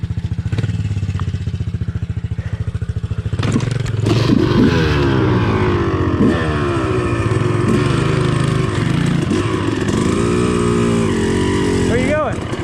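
A dirt bike engine revs repeatedly on an overgrown trail. It makes close, loud, rising and falling throttle blips over a constant idle, with clatter and a brief burst of speech mixed in.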